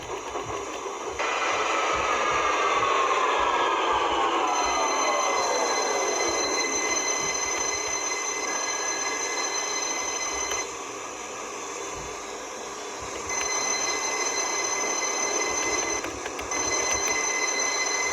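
A Victoria line train in the OpenBVE simulator game glides into Finsbury Park station, its falling motor whine and steady rolling hum easing down as it brakes to a stop, alone without talk.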